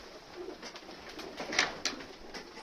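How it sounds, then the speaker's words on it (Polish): Pigeons feeding outdoors in winter, with soft pecking, flutters and faint cooing scattered through a quiet background. "Także te gołąbki sobie jedzą."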